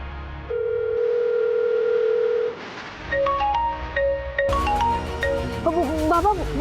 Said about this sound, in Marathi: आतूचा फोन आलाय घरून.